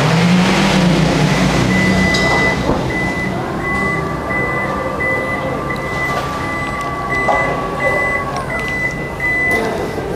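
Power back door on a 2023 Toyota Kijang Innova Zenix Q Hybrid opening on a voice command: a steady train of short warning beeps and a sustained tone ring over constant vehicle background hum.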